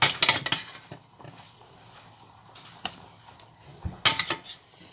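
Pumpkin seed dumplings go into a pot of broth with a burst of clinking utensil-on-pot clatter at the start and again near the end, separated by a quiet stretch of soft handling, with no talking.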